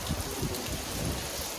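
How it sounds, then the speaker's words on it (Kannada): Rain falls steadily outdoors near a temple in Coorg, a soft, even wash of drops at low level, with no voices. "ಮಳೆ ಬರ್ತಿದೆ ಗಾಯ್ಸ್."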